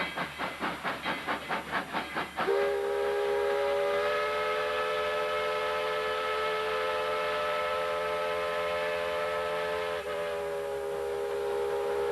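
A steam locomotive of the Tweetsie Railroad chuffs in quick rhythmic puffs, then a loud, sustained steam whistle blows over a continuous hiss as the train pulls out of the station.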